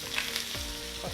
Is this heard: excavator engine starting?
no